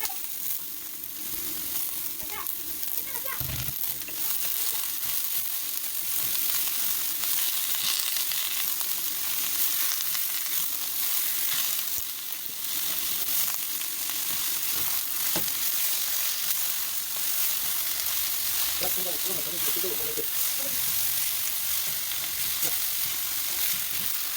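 Celtuce (asparagus lettuce, or stem lettuce) is stir-fried with ginger paste in a pan, producing a continuous close sizzle along with occasional scraping and tossing sounds from stirring. No one speaks.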